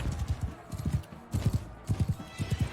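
A horse in the video game Mount & Blade 2: Bannerlord gallops with rhythmic clip-clop hoofbeats and whinnies during a battle, the hooves coming in quick repeated bursts, close and moderately loud.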